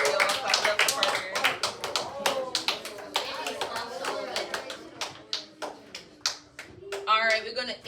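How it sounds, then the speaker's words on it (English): Students in a class clap their hands for a classmate. The claps are close, uneven and bursty, and voices chatter and call out over them. "Clap it up for Parker, y'all."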